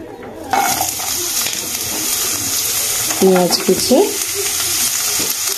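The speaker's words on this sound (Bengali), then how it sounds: "তো এর মধ্যে আমি দিয়ে দেব পেঁয়াজ কুচি" Chopped onion drops into hot oil for an egg korma, a dense, close sizzle that holds steady, with a brief voice-like murmur partway through.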